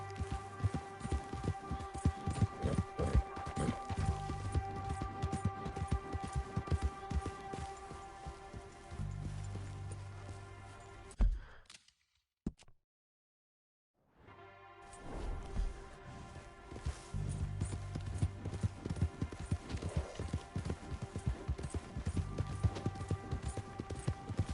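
Hooves beat in a rapid, steady gallop from a horse in Red Dead Redemption 2. The rhythm is dense and continuous, drops out briefly to near silence midway, then resumes with the same galloping pace.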